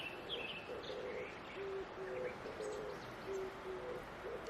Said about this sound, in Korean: 어디서 누가 녹음해서 틀어놓은 게 아닐까 싶을 정도로 선명하게 들리는 새소리를 들으며 내려왔다